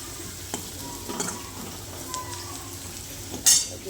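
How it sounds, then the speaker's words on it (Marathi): A besan mixture roasts in a pan while a spoon stirs it, giving a low sizzle under intermittent scraping strokes and a few sharp metallic clinks against the pan. "तर आपलं मिश्रण भाजलेलं आहे आपण टाकू ह्याच्यामध्ये हळद"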